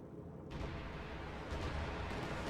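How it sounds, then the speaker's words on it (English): Strafing run by a P-47 fighter in the Company of Heroes 2 war game: dense, continuous rumbling gunfire that swells at about half a second and stays loud and sustained to the end. "Another strafing run coming in."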